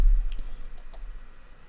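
A few quick, sharp clicks of typing on a computer keyboard at close range, entering a search into Google, then fading out; no talking.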